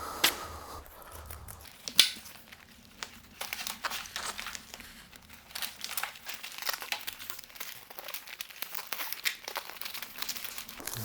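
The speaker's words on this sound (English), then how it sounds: "it says to wrap it again with insulation tape" Crinkly tape is wrapped around a mini split line set, giving a steady run of close crackling and rustling with a few sharper snaps, alone and with no talk.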